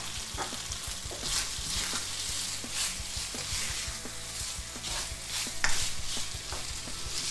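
Garlic and chilies frying in a pan for a Thai-inspired chicken dish, a steady close sizzle with soft stirring scrapes and occasional utensil taps throughout, no voices.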